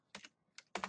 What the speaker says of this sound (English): So I'm typing that in the web browser right now.